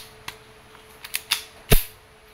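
WE M92 airsoft pistol, a Taiwan-made gas replica, firing during a chronograph test: a few sharp clicks and snaps close by, ending in one louder crack.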